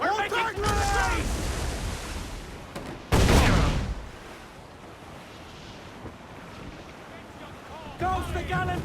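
Naval cannon fire from a sailing ship battle in Assassin's Creed IV: Black Flag booms out as a loud, sharp burst amid ocean surf and wind, with shouted voices at the start and end.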